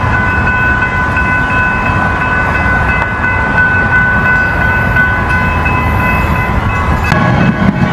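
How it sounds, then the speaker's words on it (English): A train rumbles steadily past close by in Minneapolis, with a low continuous roar, rattling wheels and a faint bell-like tone ringing over it throughout. "one train crossing over"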